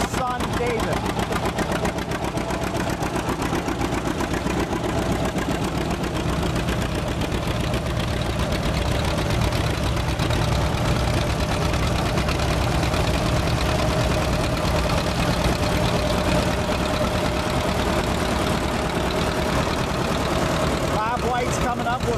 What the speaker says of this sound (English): Behind Mark's G, he has his 1959 730 diesel, being driven by his son David.